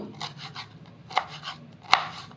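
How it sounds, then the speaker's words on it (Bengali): Boiled, softened banana flowers are cut into small pieces on a board, giving a series of soft, irregular knife chops with two sharper, louder strikes, close-up and without speech. "এই ফুলগুলোকেও ছোটো ছোটো করে টুকরো টুকরো করে কেটে নেব"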